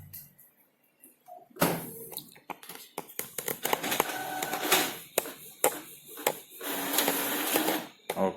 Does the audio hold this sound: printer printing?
yes